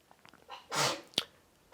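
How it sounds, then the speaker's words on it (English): A single short sneeze, fairly quiet, with soft breathing and small rustles around it in an otherwise quiet room. "One of my friends had a sneeze."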